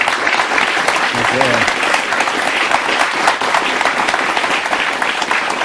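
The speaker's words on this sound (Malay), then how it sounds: "Kita beri tepukan kepada Dr. Saharudin." Loud, close, continuous clapping from an audience greeting a panelist at a campus sports-discussion event, dense and even for the whole stretch, with a brief voice briefly audible early on.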